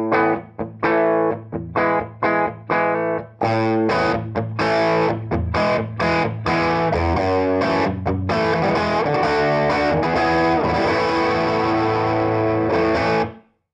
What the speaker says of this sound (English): Overdrive is designed to hit the front of your amp harder still, while still maintaining the character of your guitar's tone